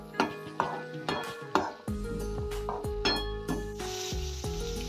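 Vegetables frying in a spiced oil tempering for shavige bath, quiet sizzling punctuated by a few sharp spatula knocks and scrapes on the pan, close by with no speech.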